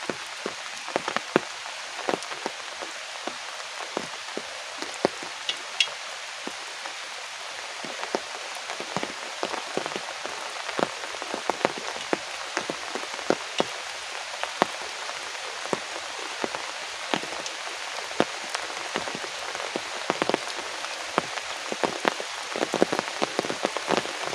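Heavy rain pours steadily onto surfaces in a village, a dense continuous hiss with scattered sharper drop taps throughout, no voices.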